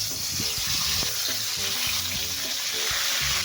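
Tilapia fries in a pan with a steady, close sizzle and occasional scraping and stirring taps throughout.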